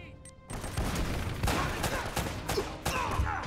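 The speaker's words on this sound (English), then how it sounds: "Lots of freaking gunfire." Constant loud gunfire with explosions during a firefight in the video game Uncharted, dense overlapping shots and bursts filling the whole stretch after a brief quieter start.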